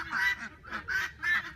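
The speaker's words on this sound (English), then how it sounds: "There's my ducks." Domestic ducks quack in three evenly spaced bursts, close and clear, with no talking over them.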